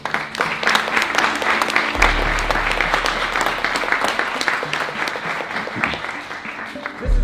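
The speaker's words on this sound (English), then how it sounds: "So let's do a quick round of applause." A quick round of applause from attendees at an info session for a carbon removal challenge, a dense, sustained clatter of many hands that holds steady for several seconds before easing slightly near the end.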